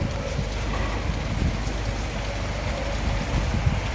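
Rain falls steadily on a rainy day, a continuous dense patter and wash of drops close by, with no voices.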